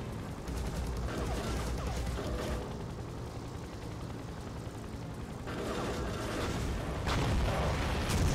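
Loud, dense explosions and crashing booms fill the whole clip, with a heavier burst near the end, as a helicopter blows up in an enclosed space in the PC game Soldier of Fortune.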